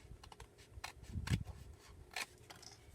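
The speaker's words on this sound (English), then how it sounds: "now we could go ahead and cut this cardstock" Scissors snip through heart-shaped cardstock in a few faint, sparse cuts, with quiet crisp clicks and slices close by in an otherwise hushed room.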